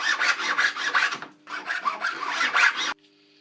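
Close hand filing on a wedding ring at a jeweller's bench: quick repeated rasping strokes in two bursts separated by a brief gap, stopping abruptly, with a faint steady hum left behind.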